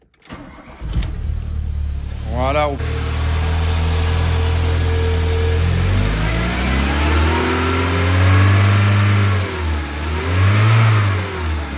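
A Volkswagen Golf 1 GLI cabriolet engine cranks briefly, catches and starts, then revs up and down several times before settling to a fairly high idle, loud and close, with a short spoken word at the start.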